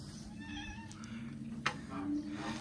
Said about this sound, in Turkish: Öteki de sokak kedisi arkadaşlar.